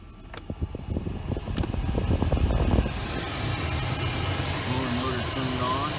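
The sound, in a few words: 2011 Grand Cherokee blower motor running through speeds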